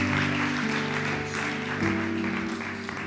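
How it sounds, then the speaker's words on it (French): Church congregation applauding during a worship service, moderate clapping that rises and fades over a few seconds beneath sustained organ or keyboard chords. "On les applaudit ensemble."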